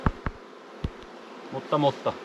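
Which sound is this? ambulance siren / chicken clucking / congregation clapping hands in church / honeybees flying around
honeybees flying around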